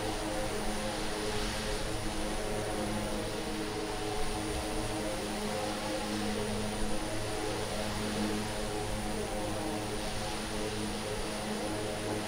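A Twin Otter propeller plane in Microsoft Flight Simulator drones with a loud, steady engine and prop hum, continuous and unchanging, with no voices over it.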